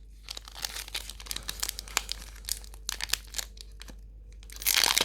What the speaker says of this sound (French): on va commencer cette ouverture avec un pack Genesect